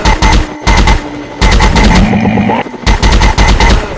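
Loud, close bursts of automatic gunfire in a commando shooter game, rapid-fire volleys separated by short pauses, with crackling impacts filling the gaps between bursts.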